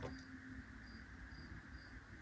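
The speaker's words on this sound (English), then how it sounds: "do you hear the crickets?" Crickets chirp faintly at sundown, a soft steady trill with a few brief higher pulses repeating over a quiet background hum.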